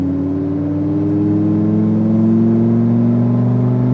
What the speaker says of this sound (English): squeeze back onto the throttle, accelerating straight through the S-curves.